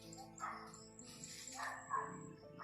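A dog yips and barks a few times in short bursts at moderate distance, with other faint outdoor sounds around.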